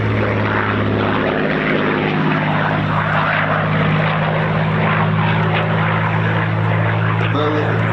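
A Merlin-engined P-51 Mustang flies at an RAF East Kirkby airshow, its deep, steady propeller-engine drone loud and continuous throughout, with a pitch sweep as it passes and a commentator speaking over the roar.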